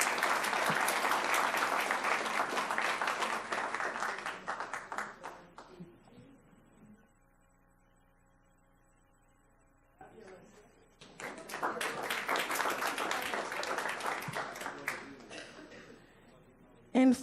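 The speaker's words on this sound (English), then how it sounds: "Let's give everyone a round of applause" A room full of people at a school board meeting breaks into loud, sustained applause that fades out, goes quiet for several seconds, then swells into a second strong round of clapping.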